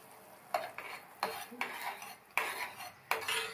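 A spoon scrapes and knocks against a pot as pepper powder is stirred into drumstick soup, a few sharp clinks and swishing strokes, close and clear with no talk.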